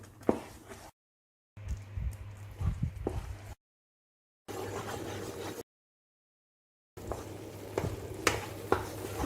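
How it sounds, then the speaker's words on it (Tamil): Ghee sizzling while almond halwa is stirred in a pan, a soft steady fry hiss broken by scraping ladle strokes and occasional clinks, in short bursts separated by silent gaps. "கொஞ்சமாக நெய் சேர்த்துக்கிறேன்."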